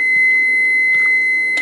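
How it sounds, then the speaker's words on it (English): A kitchen timer gives a loud, continuous high-pitched electronic beep throughout, close and steady, with faint kitchen clatter underneath. "There's the timer."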